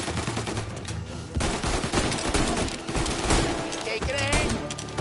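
Gunfire in the video game Mafia Definitive Edition, a dense, loud fusillade of overlapping shots and bursts rattling continuously through a chaotic firefight.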